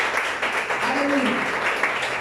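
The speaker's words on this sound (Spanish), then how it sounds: "Den ese fuerte aplauso." A church congregation gives a strong round of applause during a Sunday school service, a dense, continuous clapping with a brief voice rising faintly underneath it.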